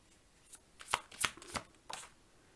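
Tarot cards are handled and shuffled by hand, giving a series of soft, papery riffles and slaps in uneven bursts, fairly close and quiet, with no talking.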